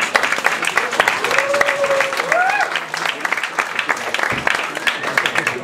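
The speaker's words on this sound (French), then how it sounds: "On applaudit." An audience applauds the judges at a live show with loud, sustained clapping that stays dense throughout, while a voice speaks over the applause partway through.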